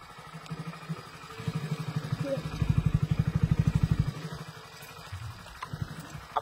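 A Hero Splendor motorcycle idles after an off-road ride on the Kishtwar–Keylang track, its single-cylinder engine throbbing in a rapid, rhythmic putter that swells loud mid-clip then settles, with someone talking throughout.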